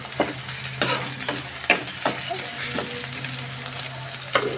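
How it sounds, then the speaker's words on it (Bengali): Mixed sea fish frying with onions in a pan, a steady close sizzle broken by sharp clacks of stirring about every second, with a low steady hum underneath. "মা এখানে, ভেজে নেব পেঁয়াজের সাথে।"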